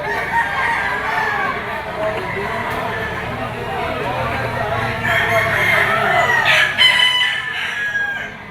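A twelve-month-old yellow-legged, straight-combed pumpkin sweater gamecock rooster crows at a farm in Lipa, Batangas, over other fowl clucking, while someone talks throughout.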